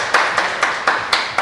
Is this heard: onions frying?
no